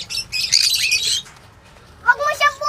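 An angry pet bird in a giant cage lets out harsh, loud squawks close by, one burst, a short pause, then several more sharp calls.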